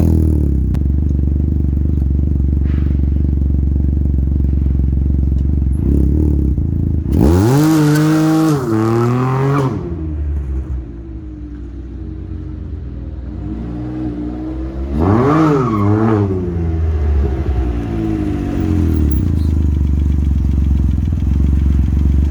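A Can-Am Ryker three-wheeler fitted with a Treal Performance race exhaust with the baffle removed starts up and idles with a deep, loud rumble, then revs sharply twice in rising, throaty bursts before settling back to idle.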